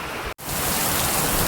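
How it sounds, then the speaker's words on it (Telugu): Heavy rain pours down during a cycling trip through Andhra Pradesh, a loud unbroken hiss of falling water that cuts out for a split second and then resumes. "ఒకసారి బ్యాక్ సైడ్ చూసుకుంటుంటే ఎంత భయంకరంగా కురుస్తుందో చూడండి."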